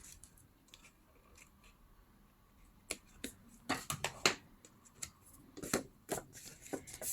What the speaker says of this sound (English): just gonna cut this small triangle here